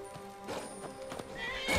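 In Skyrim, a horse neighs loudly and close by amid clip-clopping hooves during combat, one drawn-out whinny swelling toward the end.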